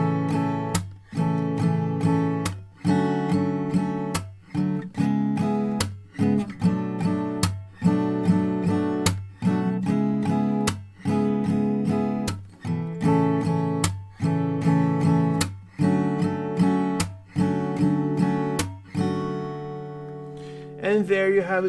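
Acoustic guitar playing a song, rhythmic strummed chords with sharp percussive slaps landing at regular intervals, full and close, ending in a lingering final chord with no talking.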